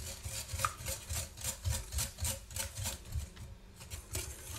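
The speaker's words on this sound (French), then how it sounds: "J'ai bien mélangé les œufs, le sucre, du beurre." Eggs, sugar and butter are beaten in a bowl for coconut shortbread biscuits: a steady rhythmic swish-and-scrape of about two strokes per second, close up, with no voices.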